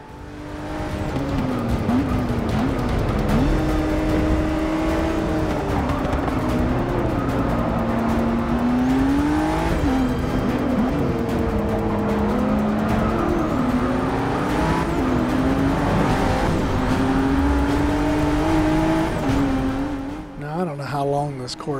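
Race cars in the Forza 6 racing game roar continuously with rising and falling engine revs and tire squeal through the corners, loud and close for most of the stretch before a brief dip near the end.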